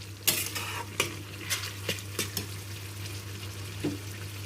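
Chili chicken with soy sauce being stirred in a frying pan: a spatula knocks and scrapes against the pan in a series of sharp strokes over a soft, steady sizzle, with no voices.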